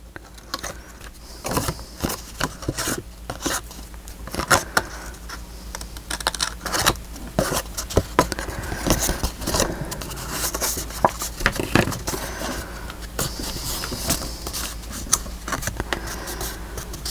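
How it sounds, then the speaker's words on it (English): Scissors cut carefully through the spine of a handmade mini album, giving irregular close snips and rustling crinkles of paper and card, some sharp clicks among softer handling noise. "So I need to cut that off carefully. I think I will try my scissors."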